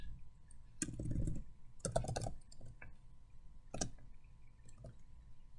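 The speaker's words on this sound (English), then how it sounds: "So if you start typing in Blueprint," Quiet typing on a computer keyboard, a few short bursts of soft clicking keys spread over several seconds against a faint room hum.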